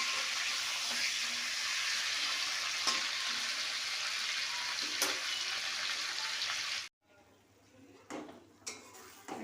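Chicken pieces fry in a pan with a loud, steady sizzle and a few utensil clicks, then the sound cuts out abruptly, leaving only faint clinks and movement.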